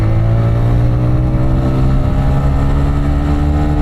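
A TVS Raider 125 motorcycle engine revs hard and holds near the top of its range in power mode, a loud, steady, buzzing high-rpm drone with no talking.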